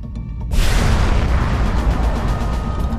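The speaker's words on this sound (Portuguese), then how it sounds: "A supernova é a explosão colossal de uma estrela no fim da vida." A supernova explosion sound effect, a sudden loud boom that bursts in and then rolls on as a sustained, dense roaring rumble with crackling texture until the end.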